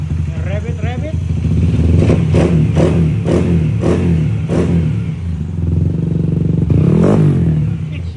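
Motorcycle engine on a 232cc build, an RT Mini X with stock radiator, revving in a steady series of loud bursts over a constant idle drone, with a final surge near the end and people talking over it.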